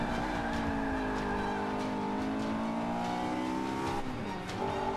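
Car braking hard with ABS engaged in the Forza 5 racing game: engine note sliding down in pitch over a steady road roar, with a brief tire chirp near the end, loud and continuous with no talk.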